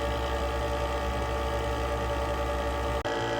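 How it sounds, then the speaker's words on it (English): A steady mechanical hum of a gas detector's small sampling pump running continuously, with a constant low drone and a brief dropout near the end. "You can hear the pump going"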